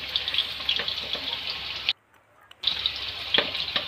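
Potatoes frying in oil in a kadai with salt and turmeric, a steady close hiss of bubbling oil with light stirring clicks, cut by a short silent gap before the sizzle resumes.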